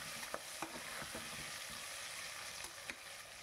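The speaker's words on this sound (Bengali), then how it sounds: "একটু হালকা নাড়িয়ে চাড়িয়ে বেশ আলুগুলোকে আমি লাল লাল করে ভেজে নেব।" Potato pieces frying in oil with turmeric and salt, a steady low sizzle with soft scraping stirs and a few clicks of a utensil against the pan.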